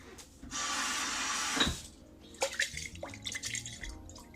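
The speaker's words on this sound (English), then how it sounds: "Put a little water in it, guys, and shake it out." Water splashing into a container and being swirled and shaken out while making Jamaican BBQ jerk chicken, heard as a steady rushing pour followed by irregular sloshing and clattering splashes, fairly close.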